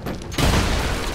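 A bomb goes off in Lara Croft and the Temple of Osiris, a sudden loud boom after a brief lull, followed by a sustained rumbling wash of debris and noise.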